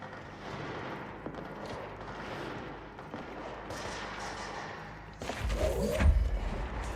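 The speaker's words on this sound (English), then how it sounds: "I hear gunfire again." Distant video game gunfire in Control thumps and cracks sporadically through a murky background, ending in a louder, heavier burst of impacts.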